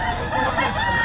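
A gamefowl rooster at a busy poultry market crows once, loud and close, in a single sustained, strained call.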